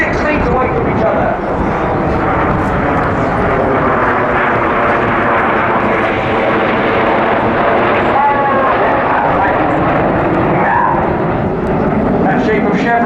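Jet aircraft fly inverted in close formation at an airshow, a loud, sustained roaring rumble that swells and sweeps overhead while an announcer talks over it.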